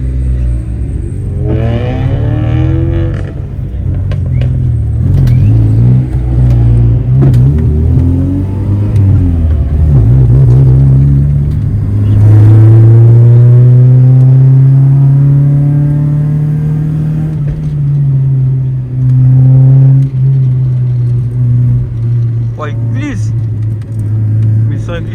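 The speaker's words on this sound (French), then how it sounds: "On va se poser et ensuite on va laisser la voiture chauffer et après on va rouler." A car engine fitted with SRS silencers idles and warms up, a deep steady rumble that swells with occasional revs, close and loud, while people talk nearby.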